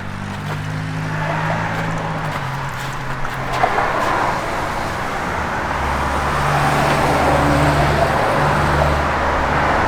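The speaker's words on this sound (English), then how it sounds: "good sounding 440 underneath the hood" A 1969 Plymouth Road Runner's 440 engine runs with a continuous low rumble, close and fairly loud, its tone shifting slightly as it keeps going, with no voices over it.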